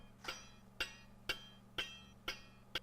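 A loose jeweler's saw blade fitted without tension is plucked six times at an even pace, each a short, faint, dull metallic twang with a brief ring, heard alone over quiet room hum.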